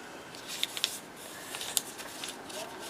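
A book page folded in half, giving a soft rustle of paper with a few sharp crisp crackles as the crease is pressed, close and fairly quiet.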